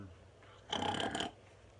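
A voice imitates a dog's snore with one rough, breathy snort lasting about half a second, close and fairly loud against a quiet background.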